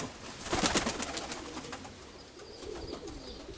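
A pigeon coos softly nearby, a short run of low throaty calls with light rustling and handling noise around it.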